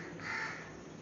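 A single drawn-out crow caw sounds at a distance, faint and muffled, over a steady background hiss, with no talking.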